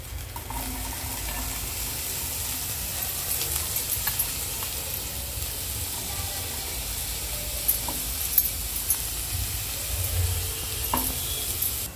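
Onion fries in oil with ginger, garlic and chilli, a soft continuous sizzle with scattered scrapes and knocks of stirring rising here and there, heard close and without talk.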